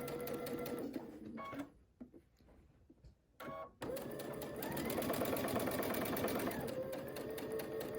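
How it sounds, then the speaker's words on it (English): A sewing machine stitches tree skirt fabric, running in a close steady whir, pausing briefly with a few clicks, then resuming for a longer continuous run. "I'll take a few stitches"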